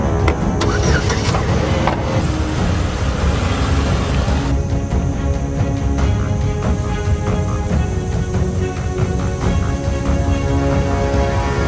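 Car engine turning over and then running steadily as the vehicle pulls away, loud and close throughout, with no voices.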